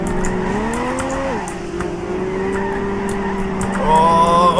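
Car drifting in the Random World Racing 2 video game, with a sustained engine drone and rising tone as the tires squeal through the slide, loud and continuous, brightening near the end.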